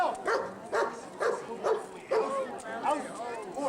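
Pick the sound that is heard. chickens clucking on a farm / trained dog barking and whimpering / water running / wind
trained dog barking and whimpering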